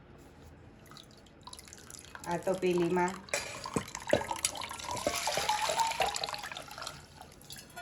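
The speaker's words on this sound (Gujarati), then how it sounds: "પછી આ રીતે આ બધું પાણી કાઢી લેવાનું" Whey water from homemade paneer pours and drips steadily through a strainer, with splashing and trickling throughout, while a voice speaks briefly over it.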